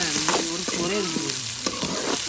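Vegetables sauté in a hot pan with a dense, continuous sizzle, broken by a few sharp scrapes and clinks as they are stirred, close and fairly loud throughout.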